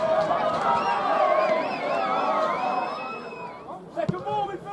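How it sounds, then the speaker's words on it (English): Home supporters at a St Neots football match cheer and shout after a late goal, a dense, loud mass of voices with whistles and rising yells that fades toward the end before a few sharp outbursts. "the home crowd have something to cheer about"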